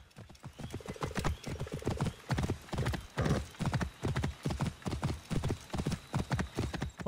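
A horse in the PS4 game Assassin's Creed Origins trots with steady, rhythmic hoof clops repeating throughout, fairly soft in the mix.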